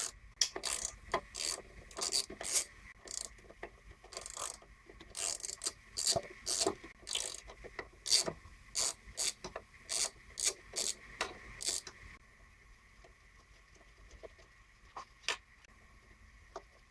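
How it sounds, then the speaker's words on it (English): Hand ratchet loosening four 10mm bolts on a Briggs Yard King lawnmower, giving quick repeated clicking bursts up close, then quieter scattered clicks near the end. "4 10mm bolts to take this off."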